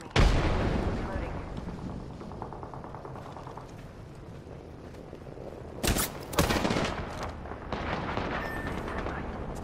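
Gunfire in the video game Apex Legends: a sharp shot opens, then rapid bursts of shots crack over a steady rumble, with a loud cluster of reports midway and more scattered fire after.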